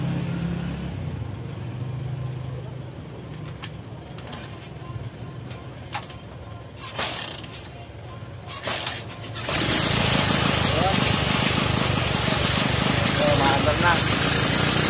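A battery-operated Motor Star 155 motorcycle engine catches and settles into a loud, steady idle after a stretch of quieter cranking and mechanical noise, with a voice speaking briefly before it runs.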